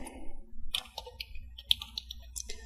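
Java code is typed on a computer keyboard in quick, irregular bursts of crisp clicks and taps, close and moderately loud over a low background hum, with no talking.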